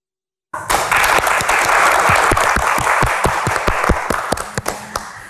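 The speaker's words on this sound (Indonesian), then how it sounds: "kita berikan tepuk tangan yang paling meriah untuk panelis yang sudah hadir di Q&A malam ini" Studio audience at a televised Q&A panel show bursts into sustained, loud clapping that starts abruptly and continues steadily, tapering slightly toward the end, with no talking over it.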